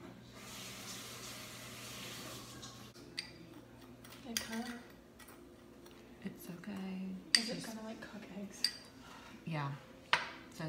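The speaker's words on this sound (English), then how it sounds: "we're just going to mix in some of our cinnamon" Cinnamon being stirred into sugar in a bowl in a home kitchen, with soft scraping and scattered light clinks of a utensil against the dish, some sharper taps near the end, under a faint background hum.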